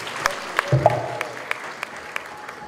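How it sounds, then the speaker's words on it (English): An audience applauds at the opening of the Asia Africa Smart City Summit 2015, a steady moderate patter of clapping in a hall with a few sharper claps standing out. "Can we have a big round of applause, ladies and gentlemen?"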